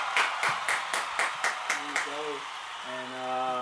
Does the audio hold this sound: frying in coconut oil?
no